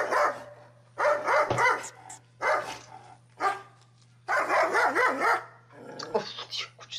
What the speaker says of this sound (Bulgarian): Оф, кучета, пак ли бе?